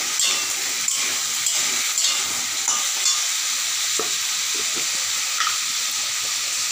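Ground spice paste sizzles loudly in a pan over high gas, a dense bright hiss with regular scraping stirs cutting through, close up and with no one speaking.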